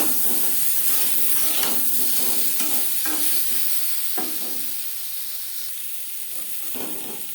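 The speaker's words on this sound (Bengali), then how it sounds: "তিন চার মিনিট লবণ হলুদ দিয়ে আলু ভেজে নেওয়ার পর একটা পাত্রে উঠিয়ে নেব" Potatoes frying in a wok with salt and turmeric, a steady close sizzle with intermittent stirring scrapes and clatters, gradually easing in loudness.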